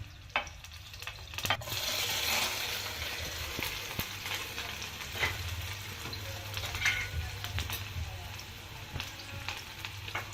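Eggs being mixed with red chili powder for an Indian-style omelette, with oil sizzling steadily in a frying pan close by, faint scraping and ticks from the stirring on top.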